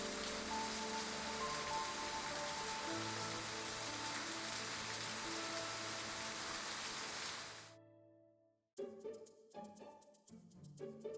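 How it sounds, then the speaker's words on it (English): Steady rain falls in the video game Love and Deepspace, a dense hiss with soft music underneath that cuts off abruptly, leaving a brief silence before other sounds resume. "I wanted the rain to last a little longer."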